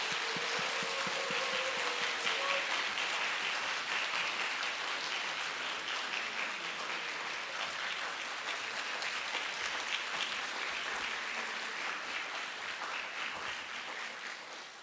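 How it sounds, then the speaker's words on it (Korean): A church congregation applauds to welcome a missionary speaker at a Sunday service, steady dense clapping that fills the room for the whole stretch and tapers slightly at the end. "큰 경의의 박수로 환영해 주시면 감사하겠습니다"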